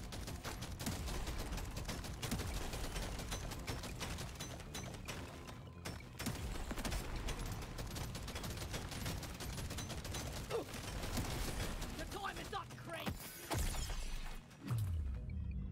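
Dense, continuous shotgun fire in the swarm-shooter video game Deep Rock Galactic: Survivor, loud blasts layered over constant in-game action and impacts for the whole stretch, with no talking.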